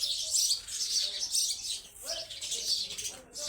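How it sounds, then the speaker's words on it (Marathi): A crowd of small birds chirps constantly, with bright high tweets overlapping in a dense, lively chatter. The sound is close and steady and runs throughout. "एवढं चिवचिव करतात ना का कोणाची गोष्ट कोणाला ऐकू येत नाही"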